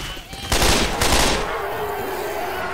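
Rapid automatic gunfire from the Left 4 Dead video game, a Christmas-modded session, bursts loudly in two dense volleys before trailing into a steady roar of game ambience.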